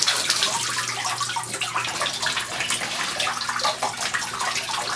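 Water gushes steadily out of the top of a Bedrock Buster gold prospecting tool, a continuous close splashing rush that stays fairly even throughout with no talk over it.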